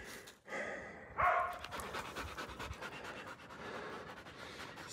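A Laika hunting dog pants rapidly and steadily close by, with brief whimpering breaths, outdoors during a bear hunt.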